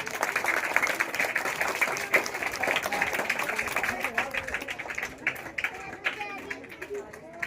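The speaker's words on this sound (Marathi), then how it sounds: "सर्वांनी टाळ्या वाजवायच्या आहेत" A crowd applauds at a school felicitation ceremony, continuous clapping for several seconds that gradually thins and turns sparse toward the end, with some voices in the background.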